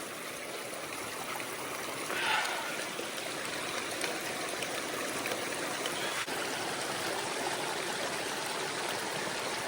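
Water trickles steadily as it is collected from a reservoir for filtering, a soft, even flow that keeps going with a slight swell near the start.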